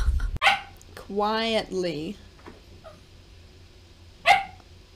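A dog barks a few times indoors, starting with a sharp bark, then a longer whining, yodel-like bark and a later single bark, while a person speaks briefly nearby.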